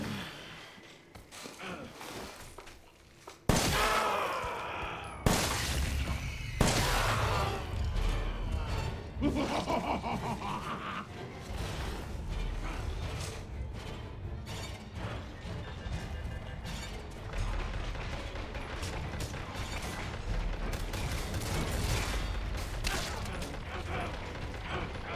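Automated turret gunfire from Resident Evil 7, a burst of sharp shots and crashes near the start followed by steady, dense game noise with scattered impacts.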